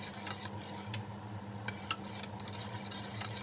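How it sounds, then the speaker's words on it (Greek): Butter being stirred into a pot of pudding custard, with soft scraping strokes and a few light clicks of a spoon against the pot, quiet and close, no talking. "Θα ανακατέψω μέχρι να μην βλέπω το βούτυρο και είναι έτοιμο"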